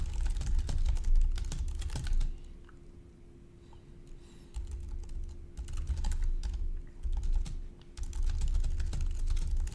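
Fingers type on a computer keyboard at a virtual convention booth, producing quick, close clatter in bursts with brief pauses between runs of keystrokes; no one speaks.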